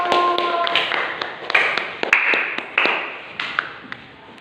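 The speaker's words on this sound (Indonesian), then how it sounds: "tepuk tangan untuk kelompok 1" A short burst of hand clapping from a small group in a classroom, with sharp uneven claps that thin out and fade after a few seconds.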